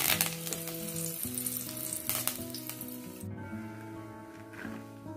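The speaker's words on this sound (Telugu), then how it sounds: "కర్రీ లీవ్స్ యాడ్ చేశాను." Curry leaves and a red chilli crackle in hot oil with mustard seeds and cumin, a dense, close sizzle with spitting pops and stirring that thins abruptly partway through, with faint tonal background sound and no voices.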